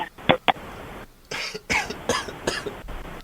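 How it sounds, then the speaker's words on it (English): A man coughs in a fit of short, sharp bursts, two quick coughs at first and then a longer run of rough, throaty coughs and throat clearing, close and fairly loud, with no other talk. "I'm having coughing fits over here"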